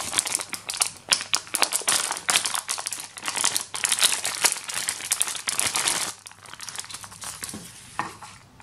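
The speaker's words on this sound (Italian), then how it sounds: "Apriamo la seconda bustina." Crinkly plastic foil of a Pop 'n' Shop blind packet being crumpled and torn open, dense close rustling bursts for about six seconds, then quieter scattered crinkles.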